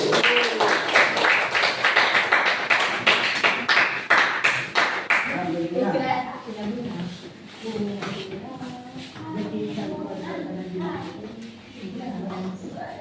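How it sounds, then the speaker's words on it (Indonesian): A classroom group claps their hands for a presenting team, a loud rhythmic burst of clapping that lasts about five seconds before fading into talk and shuffling. "Yuk, tepuk tangan dulu."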